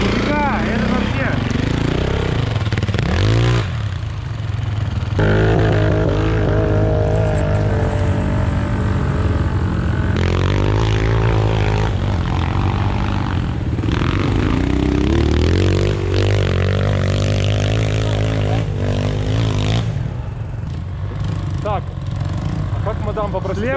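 Minsk X 250 motorcycle ridden off-road at Logoisk, its engine droning loudly and steadily throughout with revs rising and falling under the rider's talk.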